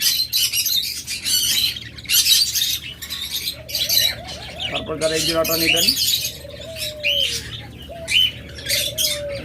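Caged pet lovebirds and budgerigars at a bird seller's squawk and chirp in a busy, overlapping chorus of sharp calls, with someone talking over the birds throughout.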